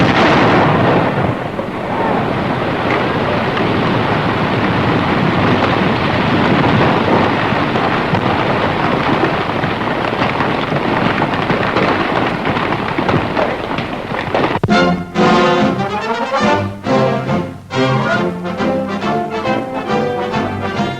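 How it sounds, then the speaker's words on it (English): Tons of dynamite blasting a trench in a riverbed for a pipeline, a long rumbling roar like rolling thunder that sustains for several seconds, then gives way to a march-like musical passage. "Now hold tight and watch for the explosion."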